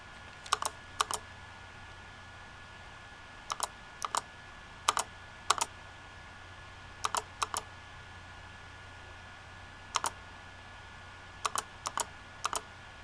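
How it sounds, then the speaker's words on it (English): Keys tapped on a computer keyboard during text entry with an assistive typing interface, crisp close clicks arriving in quick pairs and short bursts separated by pauses, over a faint steady hum with no talk. "and then we start typing Tilvus again"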